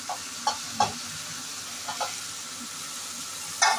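Potato, carrot and bean pieces frying in a pan for vegetable pulao, a soft steady sizzle with a few sharp stirring clinks scattered through, fairly quiet and close.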